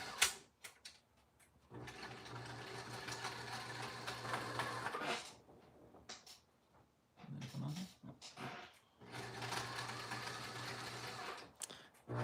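A sewing machine stitching thick, lush-pile fur for a puppet, running in steady whirring bursts with short pauses between, close and fairly quiet.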